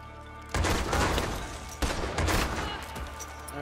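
Gunfire in a Red Dead video game: a sudden loud blast of several overlapping shots, then a second burst about a second later, each tailing off into echo.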